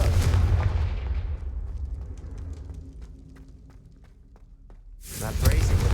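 A Confringo explosive spell goes off in Hogwarts Legacy with a loud, deep blast that rumbles and fades over a few seconds, then a second heavy boom bursts in at the end.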